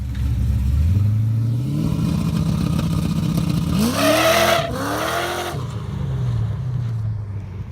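Nitrous-equipped Chevrolet Camaro launching on a street test pass, engine rising loud and close, then tires spinning and screeching through a sharp surge before the revs drop and settle back down.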